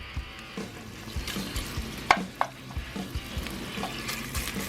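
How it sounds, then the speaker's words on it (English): Bacon sizzles and crackles in a pan on a grill with a steady hiss, punctuated by scraping and stirring clanks up close. "you can hear that bacon sizzling and it's rendered down a bit"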